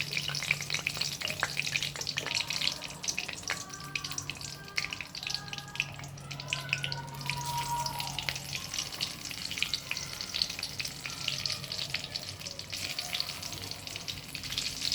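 Cumin, bay leaves and dried chillies frying in hot oil for a prawn curry, a steady close crackling sizzle with scattered stirring clinks and a brief watery hiss, no voices.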